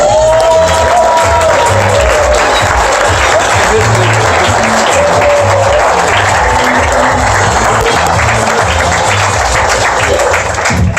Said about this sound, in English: I want you all to make a lot of noise for one of my favorite performers, Rich DeMore!